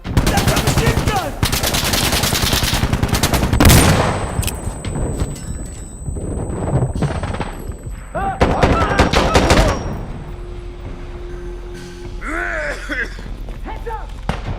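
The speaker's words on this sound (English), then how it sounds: "That's a machine gun!" Automatic machine gun fire in the video game Insurgency Sandstorm, loud sustained bursts with scattered single shots, mixed with shouted talk and in-game battle noise.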